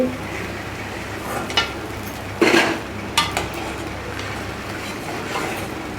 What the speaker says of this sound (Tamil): பாருங்கள் நல்லா சத்தம் எப்படி வருது மொறு மொறுன்னு ஆயிடுச்சு